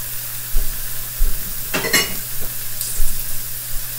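Shrimp frying in a skillet for a romesco shrimp and couscous dish, a steady loud sizzle with a low hum beneath and a brief bright burst of stirring and scraping midway, no talk.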